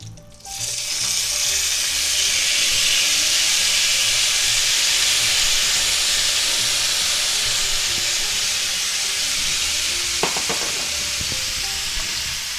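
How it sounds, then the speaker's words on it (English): Peppers and onions sizzle loudly in a pan left greasy from fried sausage, a dense continuous hiss that starts abruptly, with a few utensil clinks near the end. "now we're going to add in our peppers and onions here"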